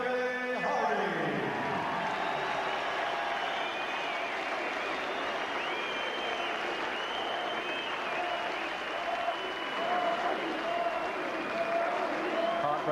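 A boxing arena crowd applauds a challenger after a title fight, with sustained, dense clapping and cheering throughout, and a faint announcer voice at the very start.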